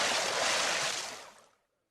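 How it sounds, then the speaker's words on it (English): A heavy splash as a man is thrown into a cold river, a loud broadband wash of churning water that fades out over about a second and a half, with no voices. "And so the friar threw Robin into the cold water."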